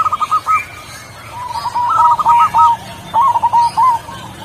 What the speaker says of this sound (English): The bird with the Latin name Geoglia striata is not only a bird capable of singing melodiously